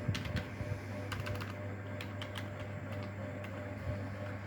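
Rapid typing on a computer keyboard while entering a name for an office assistant computer typing exam, steady quick key clatter throughout with no talk over it.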